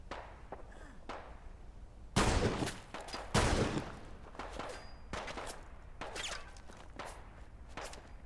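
Gunfire in Fallout: London comes as scattered sharp shots, with two loud bursts standing out over a busy background of smaller impacts and movement.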